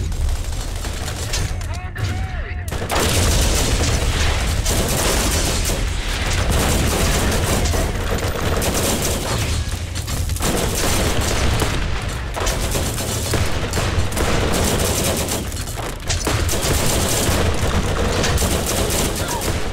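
Grenade blasts and gunfire in the Borderlands video game, a dense, continuous loud barrage of booms and shots with a voice speaking over it.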